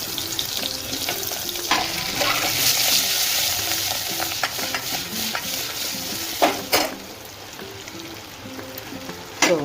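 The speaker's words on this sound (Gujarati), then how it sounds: "હવે આપણું તેલ આવી ગયું છે અને એમાં આપણે હિંગ વઘારમાં નાખી અને ડુંગળી બધી વઘારી દઈશું." Stuffed onions fry in hot oil with asafoetida inside a pressure cooker, a steady sizzle with stirring scrapes and a few sharp clatters near the end, loud and close with no talking.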